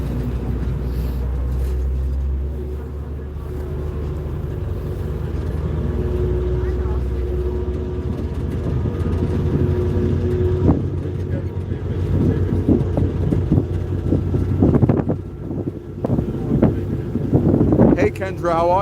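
An NYC Ferry underway on the water leaving Manhattan near the Brooklyn Bridge, with a constant engine rumble, heavy wind buffeting the microphone and water rush, and people talking over it toward the end.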